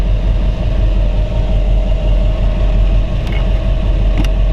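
A 1932 Ford three-window coupe street rod fitted with an LT-1 Corvette engine idles close by, a loud, steady low rumble that holds even throughout with no voices over it.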